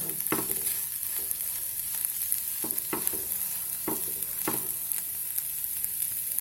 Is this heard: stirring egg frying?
yes